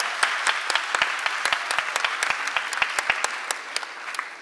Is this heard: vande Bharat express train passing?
no